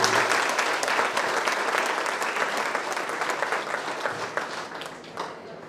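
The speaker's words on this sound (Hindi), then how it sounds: "इनके लिए ताली हो जाएंगे।" An audience at an honour ceremony for UPSC toppers in Bahadurgarh applauds the parents of the successful candidates, steady dense clapping that holds strong before easing off near the end.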